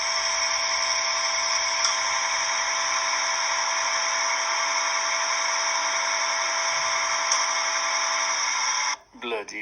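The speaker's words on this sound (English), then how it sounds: "Here's George working on a lathe." A big lathe runs in a workshop, a steady close whine of motor and cutting that holds unbroken for several seconds before cutting off near the end, with people talking over it.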